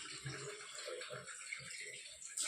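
Water spat from the mouth splashes down in several short, soft bursts at a steady rhythm, followed by a brief louder splash at the end.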